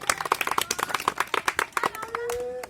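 An audience at a live comedy and magic show claps in fast, rhythmic bursts close by, then the clapping fades as a brief voice comes in near the end.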